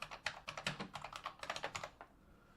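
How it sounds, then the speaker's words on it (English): Typing on a computer keyboard, a quick run of close, crisp key clicks in an irregular rhythm lasting about two seconds, quiet and alone. "then you can type whatever it was you want for your dialogue"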